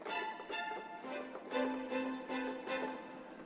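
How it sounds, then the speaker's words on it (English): Bright sustained orchestral high strings from a virtual instrument playing a slow melodic line, several held notes rising and falling, smooth and full with no voices. "So our high strings sound like this."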